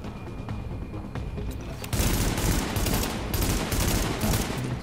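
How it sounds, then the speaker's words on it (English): A minigun in the video game Tom Clancy's The Division fires a dense, continuous roaring stream of rapid shots, growing sharply louder partway through and staying heavy to the end. "it has a fucking minigun, that's what it is"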